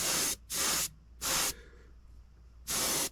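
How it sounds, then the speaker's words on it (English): Createx Autoborn Sealer sprayed from an airbrush comes out in four sharp, close hissing bursts with short silent gaps between them. "this is the Createx Autoborn Sealer that I'm using right now"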